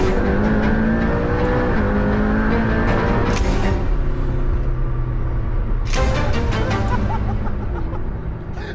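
McLaren P1 hybrid supercar heard from inside, a loud engine roaring and revving as it drives, with rising and falling pitch and sharp bursts of acceleration filling the cabin throughout.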